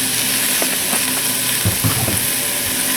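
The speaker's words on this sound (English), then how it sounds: "browning it as you would brown beef when you were making a beef stew" Vegetarian stew ingredients browning in oil in a pot, cooked the way beef is browned for a beef stew, give a steady close sizzle and crackle throughout, with a few louder stirring bursts partway through and no talking.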